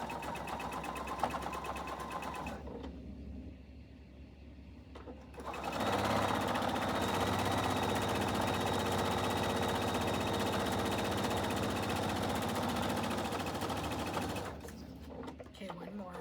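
A sewing machine stitches quilt fabric, its motor whirring in a steady, close run for several seconds, with softer handling sounds before and after.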